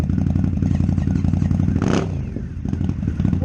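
Indian FTR1200 motorcycle engine and exhaust rumbling loud and close, a steady throbbing idle with a brief whooshing swell in the middle, then the pulsing beat resumes.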